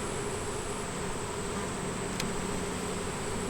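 Honey bees buzz steadily around an open hive, a dense, continuous drone with no pauses, close and fairly loud, without any talking.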